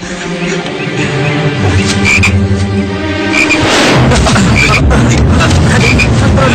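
Loud, dense croaking from frogs outdoors, with an abrupt thump and swelling rush partway through before the chorus continues, thick and close.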